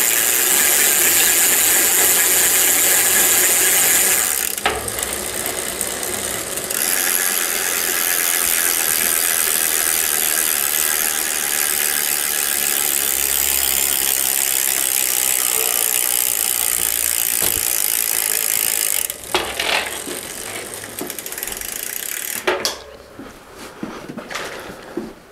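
Freewheel of a thrift shop Mongoose bicycle ratcheting steadily and loudly for most of the stretch, a continuous fine clicking with a few brief pauses and changes near the end.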